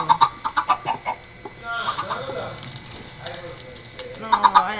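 Chickens and baby chicks clucking in a video game, a run of quick close clucks and chirps at the start and end with a crackling, sizzling fire in between.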